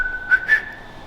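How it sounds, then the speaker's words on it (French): Short person's whistle, two brief rising tones a moment apart, close and clear, alone over faint background. "Je suis capable de siffler?"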